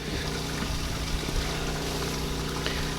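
A steady, low boat engine drone runs throughout with a constant hum and faint watery churning, no voices over it.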